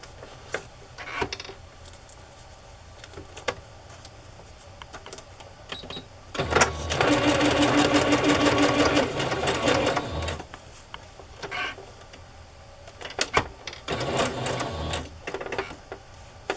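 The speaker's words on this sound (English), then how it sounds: "I'm going to sew across the top to catch all those pieces in." A sewing machine stitches across layered fabric pieces on a rustic journal cover, with a steady loud run of rapid needle strokes in the middle and shorter bursts of stitching before and after, clicks and pauses between.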